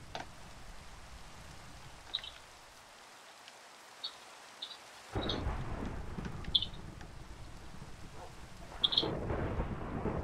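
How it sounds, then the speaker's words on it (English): Thunder from a distant lightning strike in the Minecraft video game rumbles in over steady rain, a low roar that swells partway through, with scattered faint clicks. "Oh, lightning strike."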